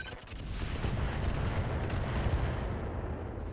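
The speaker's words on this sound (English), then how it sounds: "Firing all weapons." A battle mech in RogueTech unloads all its weapons at once, a continuous dense rumbling barrage of booming, overlapping fire that holds steady for several seconds at moderate, distant-sounding loudness.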